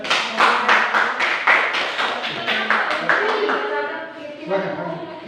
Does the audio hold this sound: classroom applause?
yes